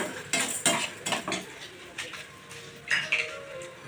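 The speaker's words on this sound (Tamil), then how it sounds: "5 வரமிளகா இதெல்லாம் போட்டு நல்லா பொன்னிறமாக வர அளவுக்கு வறுக்கணும்" Chana dal, urad dal and dried red chillies roast dry in a pan, giving a run of scraping, rattling stirring strokes in uneven bursts with a faint sizzle beneath.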